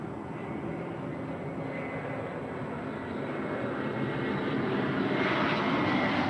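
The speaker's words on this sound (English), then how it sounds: "this is Delta Airlines 2089 coming in from Minneapolis" A Delta Airlines Airbus A321 arriving at LAX from Minneapolis makes a broad, steady roar of engines and rushing air that grows slightly louder toward the end, heard from a distance with no talk.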